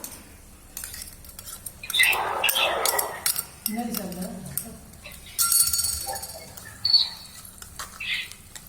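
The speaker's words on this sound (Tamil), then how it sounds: "பச்சை வாடை போகிற வரையும் நல்லா வதக்கிக்கலாம்." Ginger and garlic being sautéed in a pan, heard as intermittent metal spoon scrapes and clinks against the cookware with light sizzle, close and moderately loud, without speech.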